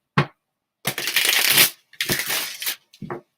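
Tarot cards are riffle-shuffled in close bursts, a short snap followed by two longer, dense riffles and a final quick flick, loud and clear with no talking.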